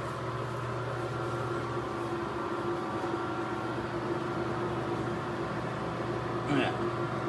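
An automatic Zentech marachekku cold-pressed oil machine runs with a steady, even mechanical hum and whir throughout, close by, with a brief faint rattle near the end.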